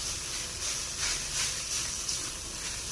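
Tomatoes and onions sizzle and hiss steadily in a hot pan, a close, continuous sautéing sound with faint stirring swells.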